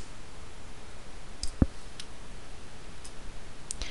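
A single sharp computer mouse click lands near the middle of an otherwise quiet room hiss, with a few faint ticks scattered around it.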